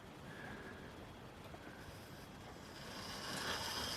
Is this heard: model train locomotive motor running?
yes